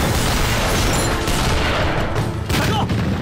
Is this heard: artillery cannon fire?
yes